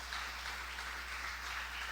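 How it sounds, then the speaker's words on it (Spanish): Church congregation applauding during a Sunday devotional service, a steady, even wash of clapping that holds for about two seconds at moderate distance with no voices over it. "Dele su mejor aplauso al Rey bendito de la gloria"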